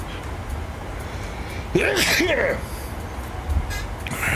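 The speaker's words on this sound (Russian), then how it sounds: "А вот сейчас я чихну уже." A single sneeze bursts out sharply, fairly close and loud, over a steady low hum of background noise.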